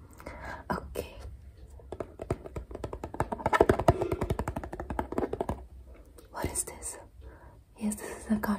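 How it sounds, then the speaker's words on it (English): Cardboard is handled up close with soft tapping, scratching and rustling in an ASMR setting, mixed with quiet whispering. "Yes, this is a cardboard, you're right."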